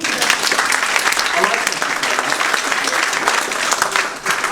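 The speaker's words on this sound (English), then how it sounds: "Round of applause." Audience applause at a live stand-up comedy show, a dense steady wash of clapping filling the room for several seconds, with voices mixed in beneath it.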